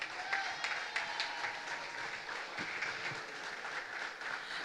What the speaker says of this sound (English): Let us join together and give the Honorable Minister a round of applause.